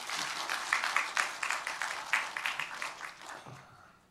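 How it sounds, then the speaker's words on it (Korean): Church congregation applauding during a Sunday worship service, a moderately quiet patter of many hands clapping steadily for about four seconds and tapering off toward the end. "우리 박수 한번 해주겠습니다."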